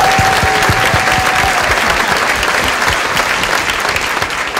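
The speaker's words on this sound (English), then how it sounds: "Everybody give a round of applause for the interpreter." A large town hall audience at a March For Our Lives event in Kansas City claps loudly and continuously, dense applause filling the room at close range.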